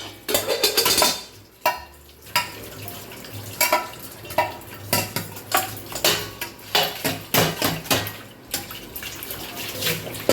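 Steel dishes, tiffin utensils and a kadai are scrubbed and rinsed in the kitchen, with clanking metal, scraping and splashing running water in irregular bursts. A few loud knocks stand out over a steady wet background.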